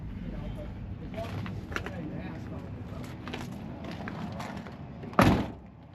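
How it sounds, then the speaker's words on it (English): Door on a square-body Chevrolet C10 truck swings shut with a single solid thump near the end, after a stretch of quiet handling noises and light shuffling. "Door closes good."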